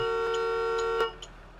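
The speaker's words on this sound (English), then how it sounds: "You don't honk at me." A bus horn in the Rigs of Rods driving simulator sounds as a steady electronic tone, held about a second, followed by a short second blip, fairly quiet with no talking.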